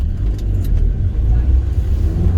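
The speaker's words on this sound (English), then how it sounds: "it's wonderful to get into a very little petrol engine, just snarling away all happy" Small petrol car engine idling and running inside the cabin, a steady low rumble with a faint rasp, close and continuous for a couple of seconds.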